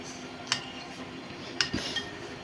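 A spoon stirs a thick gelatin jelly mixture in a dish, giving two sharp, bright clinks about a second apart, with a soft scrape after the second, against near silence.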